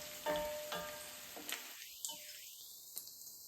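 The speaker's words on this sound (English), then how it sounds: "The mustard seeds need to pop." Mustard seeds frying in hot oil for a South African pumpkin curry, giving a steady sizzle with a few sharp pops and crackles scattered across it, close and moderately loud, with no talking.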